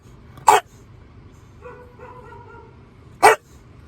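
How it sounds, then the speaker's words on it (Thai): A dog lets out two sharp, loud barks spaced a few seconds apart, nearby, with a quieter whine or whimper between them and no talking. "เวลาเบนเจอหมาตัวอื่นเห่านะครับ ผมก็จะรำคาญหูมาก"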